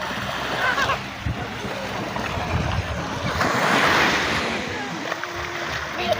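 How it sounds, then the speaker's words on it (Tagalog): Sea waves wash against a sandy beach shore, a steady close rush of surf with wind buffeting the microphone and a swell that builds midway, and no clear voice over it. "Ito po yung dalampasigan"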